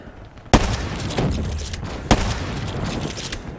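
Two sharp, loud sniper rifle shots in the video game Black Ops 3, the first near the half-second mark and the second about a second and a half later, each followed by a lingering rumble and ambient game noise.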